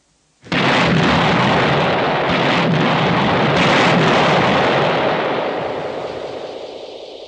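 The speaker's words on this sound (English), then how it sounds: "Right, fire the demolition, Corporal Elevate." A demolition charge blows apart the remnants of a bridge in a single loud, close blast with a sharp onset, followed by a long rumbling roar that slowly fades over several seconds.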